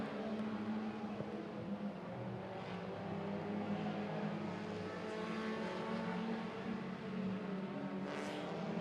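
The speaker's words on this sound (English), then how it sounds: "They are nose to tail all the way around the speedway." Mini stock race cars running nose to tail around a speedway, a steady layered engine drone with shifting revs as the pack circles, heard from a distance and fairly faint, with no talk.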